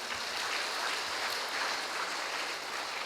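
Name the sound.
congregation clapping hands in worship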